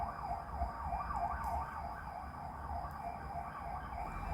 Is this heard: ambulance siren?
yes